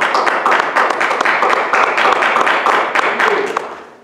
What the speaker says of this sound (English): give God a praise clap right there